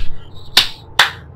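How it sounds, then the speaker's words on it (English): Two sharp hand claps, about half a second apart, ring out close and loud against a quiet background with no talking. "So I'm clapping hands for myself."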